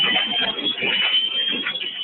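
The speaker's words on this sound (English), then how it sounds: "an alarm sounds, signaling an air pack low on oxygen" A firefighter's air pack sounds its low-air alarm: a steady, piercing high-pitched tone that holds for the whole stretch, with a muffled, busy rumble underneath.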